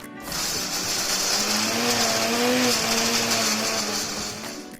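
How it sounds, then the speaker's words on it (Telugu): An electric mixer grinder whirs steadily while grinding coconut, garlic and mint chutney, its motor spinning up quickly, holding a loud rough drone with a rising pitch, then easing off at the end. "ఇప్పుడు మిక్సీ పట్టుకుందాం"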